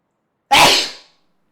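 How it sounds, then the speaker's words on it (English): A single loud, sharp sneeze bursts out close up after a moment of silence and fades quickly, from a person with allergies sitting in a car. "Might be needing to sneeze here."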